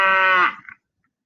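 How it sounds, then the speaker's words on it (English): A cow gives a single low, drawn-out moo, loud and close, ending with a short falling tail and then silence. "like a cow's moo"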